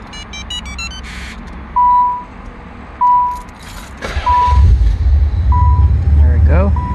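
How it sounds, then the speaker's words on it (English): A Nissan 300ZX Twin Turbo started by a Viper 5704V remote start: short chirps from the system come first, then the engine cranks and catches and settles into a loud steady idle. "So we're gonna do the remote start"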